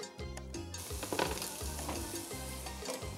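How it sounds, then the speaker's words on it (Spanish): Bacon sautés slowly in a frying pan with a quiet sizzle, broken by soft, repeated stirring and scraping strokes heard close up, with no talking. "Ahora, la tocineta la vamos a colocar en el sartén. Vamos a comenzar a saltearla lentamente."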